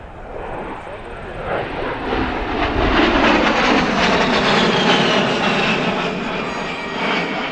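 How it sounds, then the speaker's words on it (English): A-10 Warthog jet flying past at an air show, a loud roaring whine that swells and sustains overhead, with an announcer talking over it. "Known as the Warthog, the A-10 is perhaps, Hugh, the ugliest aircraft"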